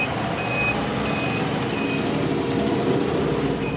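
Reversing beeps from a large vehicle on a Taiwanese street, a regular series of high, evenly spaced electronic tones sounding close and loud over a rumbling engine and traffic noise.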